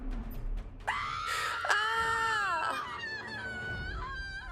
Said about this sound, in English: A piercing scream cut through his skull and suffocated M's voice.